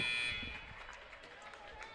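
End-of-quarter buzzer at a high school boys/girls basketball game between Henley and Mazama, a short electronic tone at the start that quickly fades into steady gym crowd noise.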